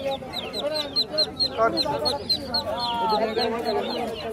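Ducks and chickens at a rural riverside char market in Bangladesh on a winter afternoon give repeated clucks and quacks, fairly close, mixed with crowd chatter and people talking throughout.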